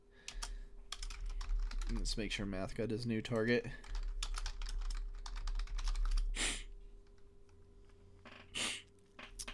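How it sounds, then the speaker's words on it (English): Fingers clatter steadily on a computer keyboard in rapid, uneven bursts of clicks, with voices talking over the typing for much of the time. "Jeffrey's typing."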